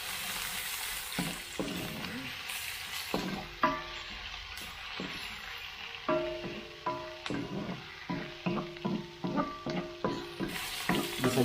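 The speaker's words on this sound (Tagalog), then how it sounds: "Gisa-gisa lang tayo." Ginger and chili sautéed in a pan for a coconut-milk tilapia dish, with a low sizzle under repeated rhythmic clinks and scrapes of a utensil that speed up into a steady tapping beat near the end.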